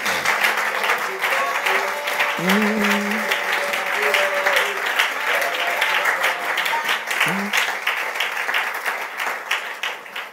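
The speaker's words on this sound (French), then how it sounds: "Est-ce que quelqu'un peut acclamer?" A church congregation applauding during a sermon, steady sustained clapping from a crowd, with a few voices calling out over it.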